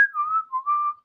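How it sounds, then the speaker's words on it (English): A person whistling a short wavering tune, a clear close melodic whistle in a few connected phrases with no talking. "Guru whistles."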